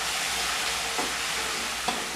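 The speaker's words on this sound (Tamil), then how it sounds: "கடுகு, கடுகு போட்டு கிண்டிக்கிட்டோம்." Mustard seeds fry in hot oil in a pan with a steady, loud sizzle and crackle, broken by two soft scrapes of stirring, with no voices.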